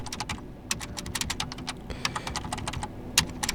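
Someone types on a computer keyboard while editing an Apache virtual host config on Linux, quick shortcut presses and Enter taps landing as a close, steady run of crisp clicks with no voices.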